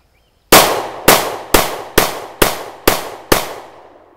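Sccy CPX-2 pistol fired in a rapid magazine dump outdoors: seven sharp, loud cracks spaced about half a second apart, each followed by a short decaying echo.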